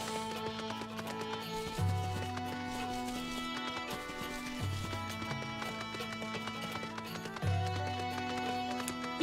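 Horse hooves clip-clop in Final Fantasy XIV Stormblood while riding through a desert area, sounding as steady game-sound footfalls under a constant bed of game music.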